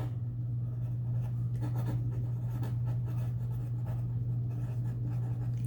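Pencil scratching on paper while an X and a name are marked on a cutting piece for a tessellation project, a soft continuous scribble over a steady low hum, with no talk.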